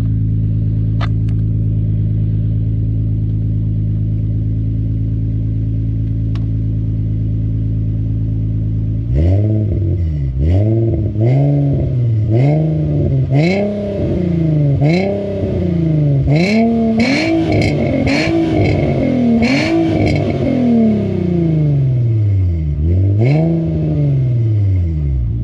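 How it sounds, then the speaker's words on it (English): An Infiniti G35 with a VQ V6 engine and a Flowmaster exhaust idles with a deep steady rumble, then revs repeatedly in loud, close blips that rise and fall, some held longer, with no talking. "the Flowmaster gives it a really, really deep tone. It's really deep, and it still has that VQ distinctive sound to it."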